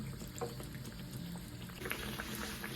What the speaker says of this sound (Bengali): ভালো করে দুটো পিঠ ভেজে নিই আগে